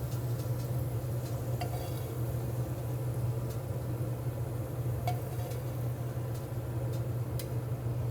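A New York strip steak pan deglazed with red wine sauce keeps sizzling steadily, a soft continuous fry with a few faint clicks and scrapes, close and alone.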